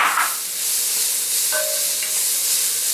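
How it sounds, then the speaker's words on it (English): White onions and ginger paste frying in a pot for sambar, a steady loud sizzle with bubbling hiss throughout and a brief stirring scrape partway through. "I'm going to be adding some white onions. And then a teeny weeny bit of ginger paste."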